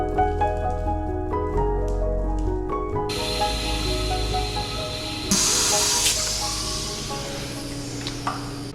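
Hand sprayer misting diluted rinseless wash solution onto a car in Canadian winter, a bright hiss bursting in around midway over fading background music, with no talking.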